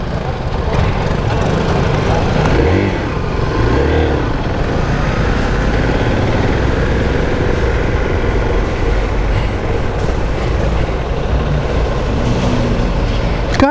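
A loud Zontes R350 motorcycle engine roars steadily throughout, with rumbling low-end and sustained throttle, some wind noise mixed in.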